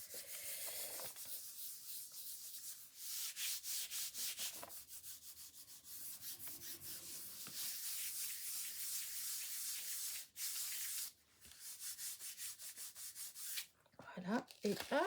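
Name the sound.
cleaning a gel press roller by rubbing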